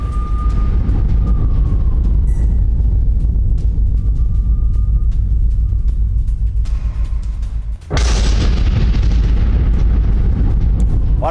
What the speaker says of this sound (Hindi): उसने कैसे यहां पर रूसी टैंक के परखच्चे उड़ा दिए, ये तस्वीरें देखिए और एम्बियंस भी सुनिए।